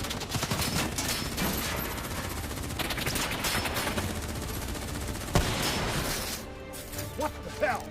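Gunfire in the video game Call of Duty Black Ops 3, dense bursts of shooting and crashes, loud and sustained, with game voices and effects mixed in.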